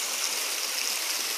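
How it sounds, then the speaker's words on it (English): A natural waterfall pours in a steady, even hiss of rushing water, close and constant for a brief moment with no talking. "This is a waterfall."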